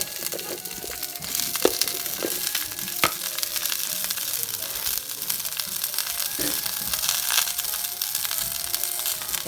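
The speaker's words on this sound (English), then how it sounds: "We have fresh green beans that have been washed and sitting and just waiting to go in the pan" Fresh washed green beans sauté in a hot pan, giving a steady crackling sizzle throughout with occasional sharper pops and stirring scrapes.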